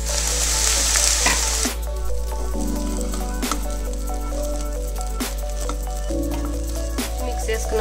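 Egg fried rice sizzles and crackles in a hot pan as it is stirred and tossed, a constant frying hiss with occasional scraping knocks of the utensil against the pan.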